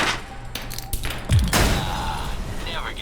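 In Alpha Protocol, a grenade thrown under a truck sets off its gas tank, heard as a heavy thump and a burst of loud explosive noise with rumbling debris, amid gunfire-like cracks and game ambience.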